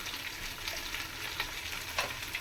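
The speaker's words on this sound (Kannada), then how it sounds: "ಫ್ರೈ ಮಾಡ್ಕೊಳ್ಳೋಣ ಎಣ್ಣೆಲಿ ಫ್ರೈ ಮಾಡೋದ್ರಿಂದ ಬಿರಿಯಾನಿ ಕಲರ್ ತುಂಬ ಚೆನ್ನಾಗಿ ಬರುತ್ತೆ" Chili and turmeric powder fry in oil for chicken biryani, giving a faint, even sizzling hiss with light crackles throughout and no voices.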